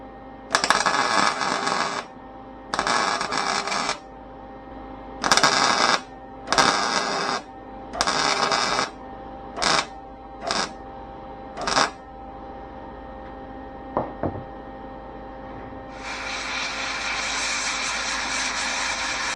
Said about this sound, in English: I'm just getting ready to weld this piece in place here for good